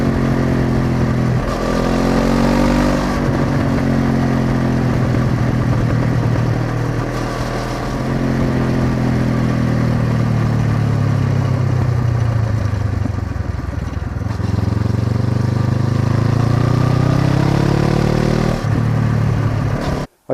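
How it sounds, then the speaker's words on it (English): Exhaust note from a motorcycle engine captured by a microphone mounted on the bike, a loud, steady mid-pitched drone that rises and falls in pitch as the revs change, with a continuous wash of wind and road noise underneath. "there's a microphone in there. It's pointing that way, picks up the nice noise from the exhaust"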